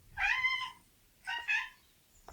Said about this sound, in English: Is that a cat? Yes.